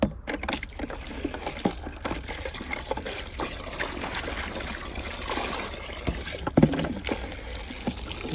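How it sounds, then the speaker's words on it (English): Water trickles and splashes steadily into a bucket being filled outdoors near a chicken area, a continuous close, moderately loud pouring wash with a brief louder knock near the end, and no talking. "Just filling my bucket with water."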